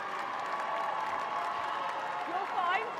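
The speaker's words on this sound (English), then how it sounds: "the cheering that you can hear from the stands has an East Anglian flavour" Crowd cheering and clapping from the stands at a women's Varsity rugby match between Oxford and Cambridge, a steady distant roar with applause, carrying a commentator's voice over it.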